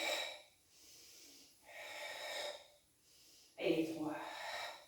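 Slow, breathy exhalations during a Pilates floor exercise, three soft airy puffs in a steady rhythm with a sharper, louder final breath, close and quiet with no talk.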